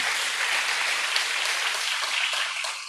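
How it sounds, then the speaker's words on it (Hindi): An audience claps together in a dense, steady wash of applause at a spiritual talk, fairly loud and close, fading slightly at the end. "ताली तो धीरे बज रही है।"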